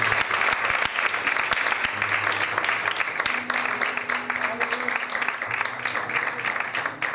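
A church congregation applauds strongly during a Spanish-language worship service, with dense, sustained clapping that fills the whole stretch at a steady loud level, and a few voices rise faintly through it.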